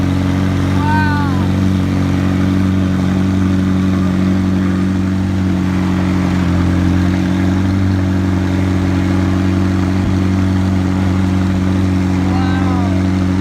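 Loud exotic sports car engine at a car show, a steady heavy engine drone with strong low rumble running throughout, close and continuous, while excited voices talk and cheer over it.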